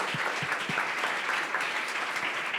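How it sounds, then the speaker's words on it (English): An audience at a European startup funding conference breaks into applause, a dense, steady clatter of many hands clapping at moderate volume that continues throughout with no speech over it. "Tanja, very welcome, and a big round of applause"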